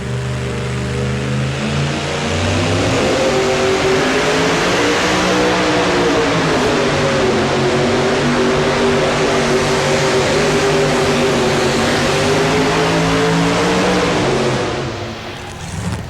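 A two-wheel-drive pulling truck, the Little Red Truck out of Ohio, roars at a 1992 NFMS truck pull in Louisville, Kentucky, its loud engine holding a steady, strained drone for about fourteen seconds before easing off at the end.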